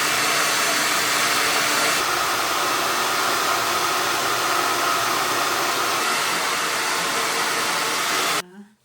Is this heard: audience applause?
no